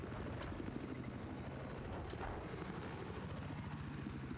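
Helicopters in the Battlefield video game churn nearby with a continuous, even rotor drone that stays steady and fairly low in volume, with faint distant thuds mixed in.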